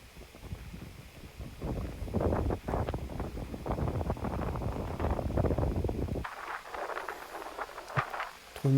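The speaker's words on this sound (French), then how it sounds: "Le vent arrive de la gauche" Gusty wind sweeps across a golf course at Chassieu, buffeting the microphone with a heavy, rumbling roar that shifts abruptly partway through and stays loud throughout.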